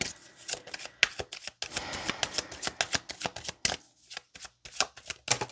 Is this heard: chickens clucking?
no